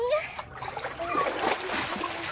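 Water splashes and dribbles as people go in for a bath, close and fairly loud, in short bursts with voices talking and calling out over it.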